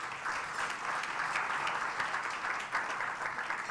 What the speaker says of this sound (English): please join me by giving him a round of applause